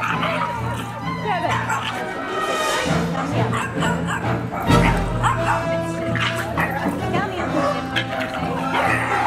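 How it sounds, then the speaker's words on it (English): Several dogs at a puppy school barking and yipping in quick, overlapping bursts, close and loud, with whimpers and people chattering in the background throughout. "And then there's just a whole bunch of background extra dogs."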